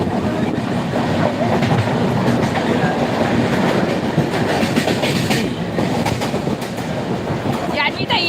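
Train running on rails with a steady rumble and clickety-clack of wheels, loud and continuous throughout, with a brief squeal near the end.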